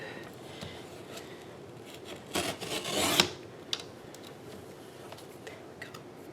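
A paper trimmer blade slides through a piece of ribbon while a holiday card is being made. It gives one close rasping cut lasting about a second, with faint handling rustles before and after and no talk.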